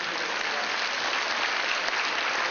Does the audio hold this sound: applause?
yes